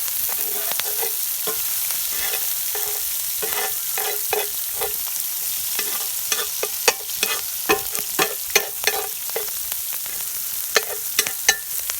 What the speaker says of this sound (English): about sauteing onions and peppers